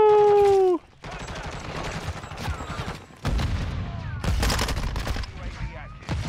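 Gunfire from the Call of Duty MW2 video game on the Shipment map: dense bursts of rapid automatic shots and loud blasts over about six seconds, with a brief lull near the start and heavier volleys toward the end.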